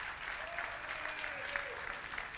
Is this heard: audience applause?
yes